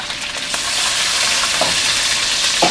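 Prawns fry and get stirred in a hot pan for a Malaysian cos lettuce and prawn dish, giving a steady close sizzle broken by a few scraping stirs of the spatula.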